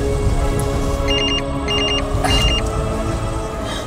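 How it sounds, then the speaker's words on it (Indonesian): A telephone rings in repeated electronic trills, three short bursts of rapid beeps in quick succession, heard clearly over a steady background hum with no talking. "Ya udah, coba gue telepon Bu Maya ya."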